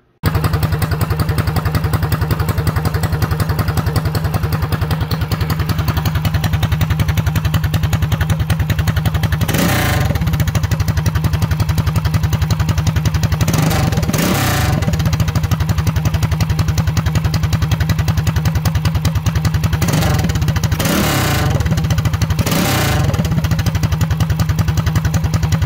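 A MM212PRO mini bike engine, governor removed, idles continuously and loud up close, with several brief throttle blips rising above the steady clattering run.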